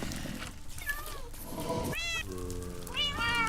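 Minecraft cats meow several times in a video game, bright rising-falling calls spaced over a few seconds against a faint game background, with a person speaking quietly.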